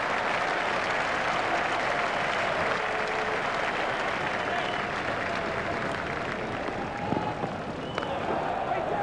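A stadium crowd in the cricket video game EA Sports Cricket 2002 cheers and applauds a boundary during a World Cup match between India and Kenya, a dense, sustained roar of clapping under faint commentary.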